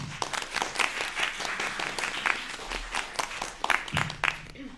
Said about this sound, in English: Real clap.